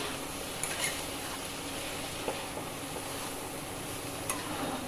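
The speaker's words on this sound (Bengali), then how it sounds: "কোরানো পেঁপেটা দিয়ে দিলাম, দিয়ে একটু নাড়াচাড়া করবো" Grated papaya stirred in a pan gives a soft, steady sizzle, with a few faint scrapes from the spoon along the pan.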